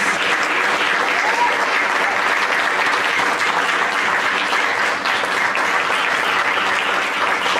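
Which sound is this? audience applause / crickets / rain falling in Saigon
audience applause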